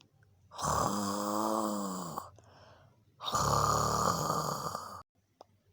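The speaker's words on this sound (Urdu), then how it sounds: "وہ تو ایسے خراٹے لے رہا تھا جیسے گھوڑے بیچ کر سو رہا ہو۔" A cartoon tree snores deeply through the night, two long drawn-out rumbling snores with a short pause between them, close and clear against silence.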